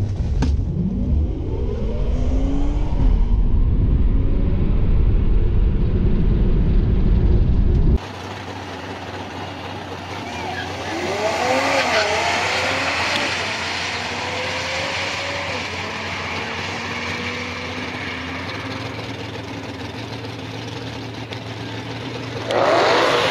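A 2019 Tesla Model 3 Performance electric car accelerates hard, its rising electric motor whine sweeping upward over road and wind rumble from inside the cabin, steady and close.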